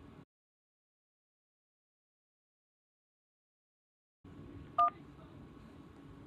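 A single short DTMF keypad tone sounds on a Yealink phone voicemail system, one crisp beep after a stretch of silence, set over a faint line hiss.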